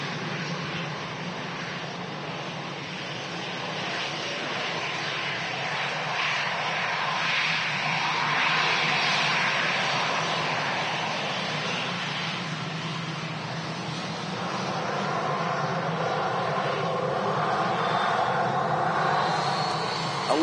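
Steady roar of an Airbus A321neo jet airliner at Manchester Airport, loud and sustained throughout, swelling slightly midway, with wind noise and no talking.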